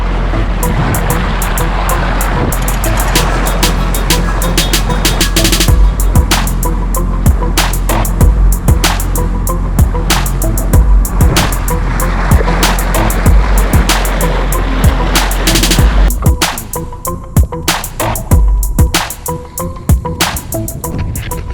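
A 7-metre motor yacht drones steadily across the water near Selimiye, Marmaris, with constant broadband engine and wash noise; it eases off slightly near the end.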